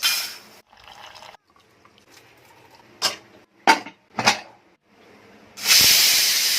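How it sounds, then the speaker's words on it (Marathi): A home pressure cooker cooking rice releases a loud, sustained hiss of escaping steam near the end, after a few sharp bursts and quieter stretches. "मग कुकरला भात लावायला घेतला"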